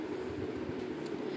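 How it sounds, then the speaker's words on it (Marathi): A local train at Khopoli railway station rumbles with a low, steady, close-by drone, carrying on continuously for a brief moment. "बघा 10 वाजेची लोकल ट्रेन आलेली"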